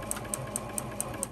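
Sewing machine running up against the needle on floral fabric, a steady rhythmic stitching clatter with evenly spaced ticks about every quarter second, close and alone at moderate volume.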